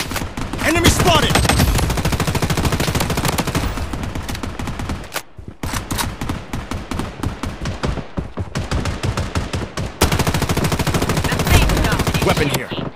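Dense, loud automatic gunfire fills a BloodStrike mobile shooter match, with sustained rapid bursts and short gaps between volleys, under faint in-game voice callouts.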